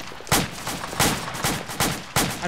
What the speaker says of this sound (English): M60 gunner, you're just shooting the sky, man.